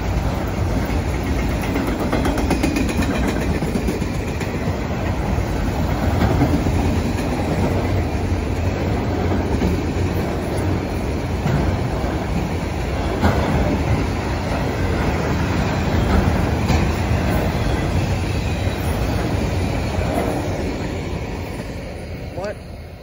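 A westbound Norfolk Southern manifest freight train of about 48 cars rolls past a highway crossing, making a loud, continuous rumble with rhythmic clickety-clack of wheels for the whole stretch, up close and fading slightly at the end.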